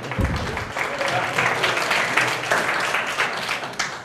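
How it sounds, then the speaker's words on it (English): Audience applauding a conference speaker at a tech talk, a steady wash of clapping from a crowd that keeps up for about four seconds, with some voices mixed in. "A big applause to him."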